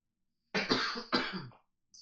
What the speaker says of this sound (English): still apologise for all the coughing as well.